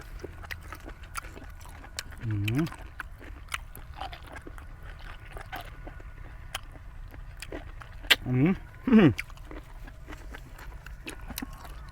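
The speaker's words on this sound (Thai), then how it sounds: "ยำนี้ยำละกรุบๆเลย" Close, crisp crunching from chewing a crunchy Thai spicy salad, with repeated small bites scattered throughout and a couple of brief vocal murmurs in between.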